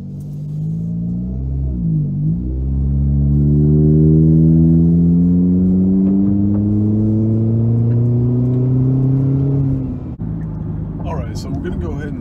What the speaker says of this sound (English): we'll give it a little bit of acceleration here.